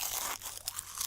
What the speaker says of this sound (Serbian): Zajedno jedu.